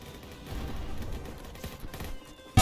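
Gunfire in the Roblox game Jailbreak, a firing squad shooting as a steady rattling burst, ending in a sudden loud hit.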